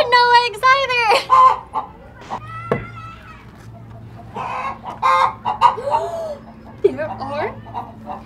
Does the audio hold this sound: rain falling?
no